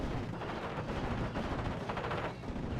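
Spitfire strafing a Pak 40 anti-tank gun in Steel Division: Normandy 44, a dense, continuous rattle of rapid gunfire with rumbling impacts, steady and fairly loud throughout with no voices.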